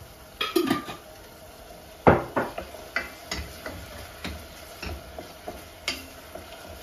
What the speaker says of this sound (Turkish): Salçasını biraz kavurayım.